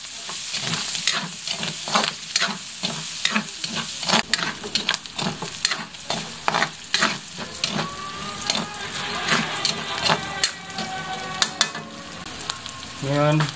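Meat and garlic browning in a hot pan, with a continuous close sizzle broken by frequent rhythmic scrapes and clanks of a spatula stirring against the metal, fairly loud, no talking.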